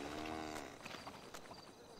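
A cow in the GTA RP video game lets out a short, low moo at the start, followed by scattered game noise and soft clatter, with no talking.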